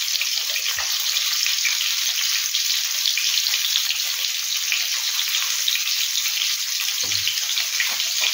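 Food frying in a pan after a sprinkle of salt, a steady bright sizzle running unbroken throughout at close range, with a couple of brief low knocks from the pan.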